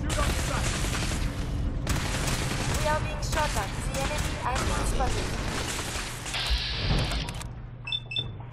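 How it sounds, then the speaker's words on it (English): Gunfire in Fallout 4 crackles through a noisy firefight, with bursts of shots and impacts mixed with game voices and effects, ending in a sustained tonal whine. "We are being shot at."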